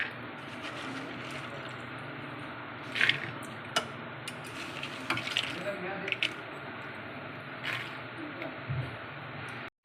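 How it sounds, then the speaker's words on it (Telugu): Water poured into a pressure cooker over soaked kidney beans, a soft continuous splashing and trickling with a few brief louder splashes, close by and fairly quiet. "ఇలా మనం కుక్కర్లో వేసుకొని రాజ్మా మునిగేంత వరకు మనం వాటర్ యాడ్ చేసుకోవాలండి."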